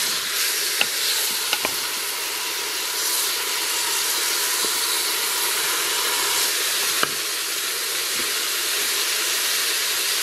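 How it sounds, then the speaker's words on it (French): Paupiettes browning in a hot pan sizzle in a steady, close frying hiss, with a few light clicks of stirring or utensil contact. "l'objectif c'est de faire donc dorer les paupiètes de chaque côté"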